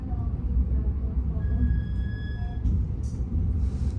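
Bangunkarta passenger train at Cirebon Prujakan station, a low continuous rumble of rolling stock with brief high squeals and hisses, heard under faint station noise.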